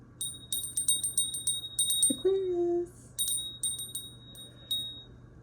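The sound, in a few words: bell being rung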